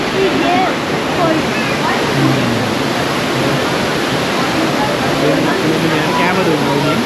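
Loud, continuous rushing of a waterfall nearby fills the scene as a dense, steady roar of falling water, with faint voices beneath it.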